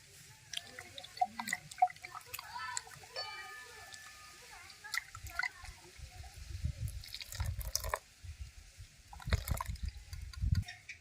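Milk is swirled in a tin and poured into a wok while making carrot rasmalai, with soft sloshing, dripping and trickling splashes coming in irregular bursts, fairly faint and close, with light clatter of the tin.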